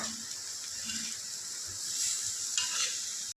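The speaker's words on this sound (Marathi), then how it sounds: "आता थोडस आपल्याला परतत राहायचं आहे असं चार पाच मिनटं भाजीला" Karela (bitter gourd) sabzi is stirred and sautéed in a pan, with soft frying sizzle and scraping stirring strokes close by, quiet and without speech.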